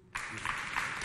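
Audience applause after a poetry recital begins abruptly and holds as a steady, dense wash of many hands clapping at a moderate level until the end.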